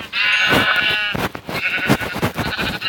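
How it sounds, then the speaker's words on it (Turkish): Minecraft sheep bleat repeatedly, loud and close, a series of wavering, nasal cries one after another with no talking. "Koyun dur koyun"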